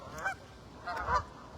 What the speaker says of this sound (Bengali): হাঁস ডাকাডাকি করছে।